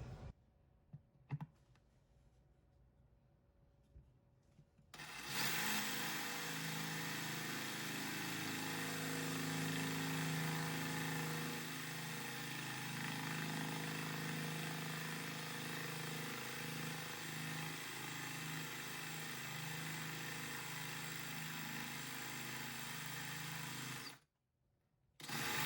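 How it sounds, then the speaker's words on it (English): A power drill bores steadily into a tile backsplash in a kitchen while a brass rail is being installed, one long continuous close whirring run lasting about twenty seconds before it stops abruptly. "I just needed a new drill"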